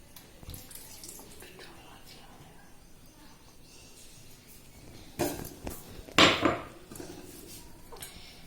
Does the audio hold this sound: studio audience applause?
no